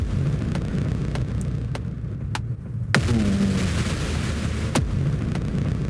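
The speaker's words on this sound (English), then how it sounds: "And then explosion again." Deep booming explosions from atmospheric Dead Space music: sharp broadband hits recur throughout, the loudest near the middle followed by a low rumbling swell, all set over a dense, steady dark drone.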